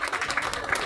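Brief scattered clapping from an outdoor crowd at a disability day ceremony in a town plaza, moderately loud, a short patter of hands with no speech over it.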